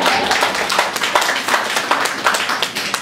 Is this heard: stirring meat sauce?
no